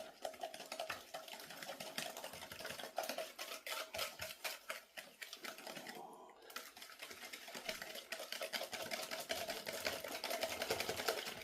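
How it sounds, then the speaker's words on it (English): A whisk is worked by hand through sugar in a bowl, giving a quiet, rapid, rhythmic scratching and clicking that continues steadily with a brief pause partway through. "we're just going to give that a good whisk up."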